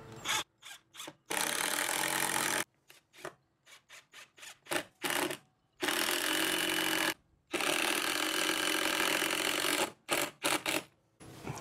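A power drill drives a 3.5-inch screw through a door jamb shield on an entry door, with loud sustained motor bursts broken by short pulsed triggers and pauses, close up with no talking.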